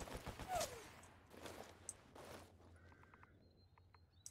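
Faint distant gunfire in S.T.A.L.K.E.R. Anomaly: a few sharp cracks in a short burst, then quieter ambience with bird calls and light footsteps, no talking.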